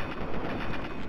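Gunfire in Fallout 3: a quick burst of rapid shots in a dense, continuous clatter, loud and close, with no talking.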